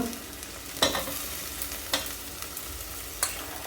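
Mixed vegetables such as potato, peanuts and eggplant sauté in a pan under a low, even sizzle, with four sharp spoon clacks against the pan spread across the sounds.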